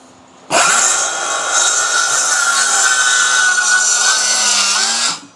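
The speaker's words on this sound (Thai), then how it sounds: "อ่าเสร็จแล้วก็เดินเลื่อยเข้ามาครับ ดันเลื่อยให้ชิดกับขอบนี้นะครับ" A saw cuts through wood while building a DIY pet house, a loud continuous whining cut that starts abruptly, holds steady for about four and a half seconds and then stops.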